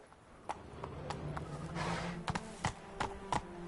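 Roach, a horse in The Witcher 3: Wild Hunt's Blood and Wine expansion, gallops along with quick, uneven clip-clop hoofbeats over a soft background, moderately close and fairly quiet.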